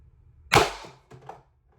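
A single sharp report from a rifle with an 8-inch barrel firing steel core rounds, loud and close, followed by a fainter short echo or ring-off, with no voices.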